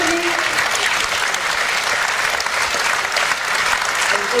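A theatre audience at the Théâtre du Parc gives steady, dense applause for amateur performers, sustained and fairly loud throughout with a faint murmur of voices underneath.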